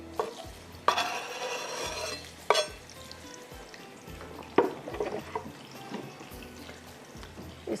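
Chopped onion sizzles and fries in a pan on a home stove while a spoon scrapes and stirs it, producing several sharp clanks over a steady close crackle, with no talk.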